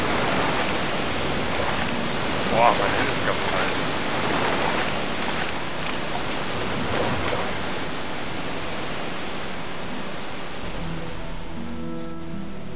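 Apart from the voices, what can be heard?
river water flowing in the video game Gothic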